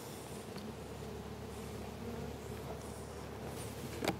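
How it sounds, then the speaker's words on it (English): Soft, steady buzzing of many honey bees close by at an opened hive, a faint continuous drone with occasional louder passes near the end. "Just gonna puff some smoke there, get all the bees out of the way."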